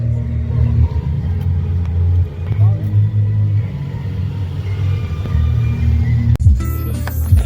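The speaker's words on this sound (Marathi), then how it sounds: "आम्हाला इथं चालू आहे गाडी" A car runs with a steady low engine rumble and road noise from inside, continuous throughout, with people talking over it and a brief bump near the end.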